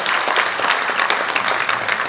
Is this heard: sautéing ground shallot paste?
no